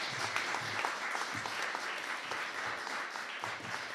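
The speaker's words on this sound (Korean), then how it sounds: "여러분들 뜨거운 박수로 여러분들 세례 축복해 주시기 바랍니다." Church congregation at an Easter Sunday baptism service in Darmstadt breaks into warm, continuous clapping, close and sustained for the whole stretch.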